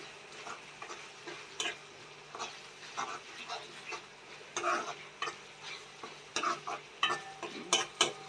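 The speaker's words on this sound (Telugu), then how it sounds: "ఇప్పుడు దీన్ని బాగా ఒకసారి కలుపుకోవచ్చు. అల్లం పేస్ట్ బాగా పచ్చివాసన పోయేదాకా వేగనిచ్చి" Ginger paste frying in a pan for cauliflower curry, with a spoon stirring and scraping at irregular intervals over a soft, steady sizzle, close and fairly quiet.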